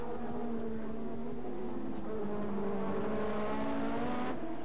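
Formula 1 cars from the 1986 Grand Prix season race on track, producing a continuous, high, whining engine note with pitch swells and shifts as the cars chase each other at speed.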